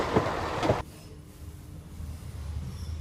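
A train passes near Perth Road in Dundee: a brief loud rushing burst cuts off abruptly, followed by a faint low rumble that swells slightly toward the end.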